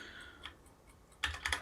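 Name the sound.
tapping a letter key on a keyboard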